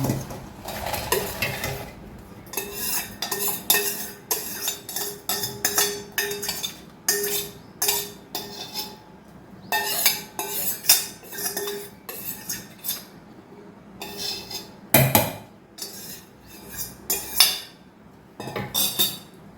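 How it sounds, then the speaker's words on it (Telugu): Dried red chillies being ground for an old-style tamarind roti pachadi chutney: sharp stone-on-stone knocks and clinks in irregular bursts, close and loud, separated by short quiet gaps. "ఎండుమిర్చి వేసేసుకొని గ్రైండ్ చేసుకుందాం"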